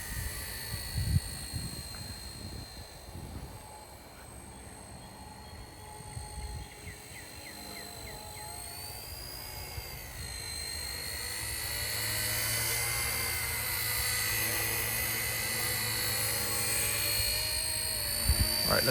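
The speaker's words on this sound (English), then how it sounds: "See if the electrical tape thing make the helicopter lands more realistic." An RC Era C032 UH1 model helicopter flies nearby with a steady whining electric motor and rotor drone whose pitch rises and falls, growing slightly louder toward the end.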